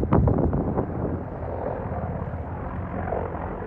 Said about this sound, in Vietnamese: có 2 chiếc trực thăng vũ trang của Nga đang quần đảo trên một khu vực đổ nát vì chiến tranh của Ukraine